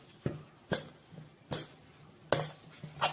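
Rice flour being roughly stirred into a pot for ukdiche modak, giving a series of separate scraping, clinking strokes of a utensil against the pot, about five spaced hits, fairly close, with no talk.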